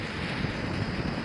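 Strong wind roars across a cheap tent at a stealth campsite, a brief, dense, steady rush with microphone buffeting and no voices.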